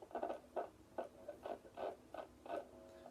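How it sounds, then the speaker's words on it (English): Rhythmic bursts of scratchy, crackling distortion pulse about twice a second, each a short gritty swell, fairly quiet with no voices: scratchy potentiometers on a cigar box guitar, still scratchy after lubricating, played through distortion. "These pots are still scratchy after lubricating"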